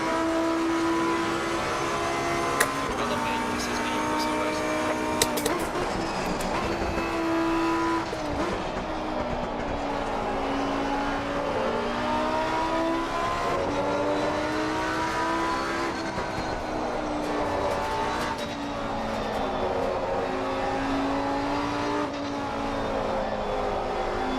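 Ford Mustang and Lamborghini GT race cars roar through a chicane and curbs in the Assetto Corsa Competizione racing game, a loud continuous engine drone whose pitch rises and falls with gear changes and throttle.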